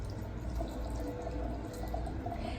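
Hot water at about 175 degrees poured into a teapot for baozhong oolong, a steady soft trickling and splashing stream, close and fairly quiet with no voices.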